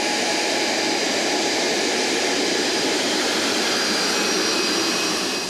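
Bombardier CRJ-200 regional jet engine producing a steady, loud, high-pitched whine and roar that holds constant with no breaks and no voices.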